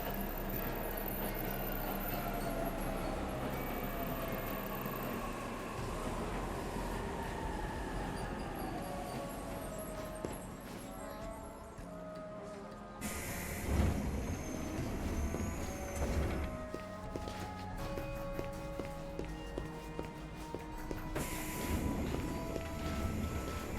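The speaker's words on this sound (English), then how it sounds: "The train's already here, so I'm gonna go." A train in the video game 13 Sentinels: Aegis Rim pulls into a station with a sustained rumble and hiss. Clanks, brake sighs and shifting mechanical noises follow, fairly close and with no voices.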